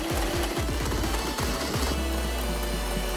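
A sewing machine stitching along the back seam of a skirt runs in a loud, steady mechanical whir with rapid rhythmic needle chatter, close up and heard alone.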